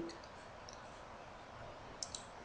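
Two quick, faint computer mouse clicks come close together near the end of a quiet stretch of room tone.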